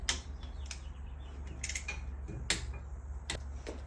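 Torque wrench on a Harley-Davidson brake caliper mounting bolt, fitted with a 10 mm socket on a half-inch to three-eighths adapter. Several sharp, separate clicks ring out close by over a low steady hum, with no talk.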